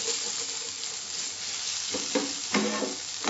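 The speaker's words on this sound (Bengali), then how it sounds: "টমেটোগুলোকে আমি 3-4 মিনিট ভালো করে ভেজে নিয়েছি" Softened tomatoes frying in a pan for an Andhra-style egg masala, a constant close sizzle broken by a few clattering stir strokes near the end, no speech.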